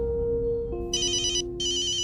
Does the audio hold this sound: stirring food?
no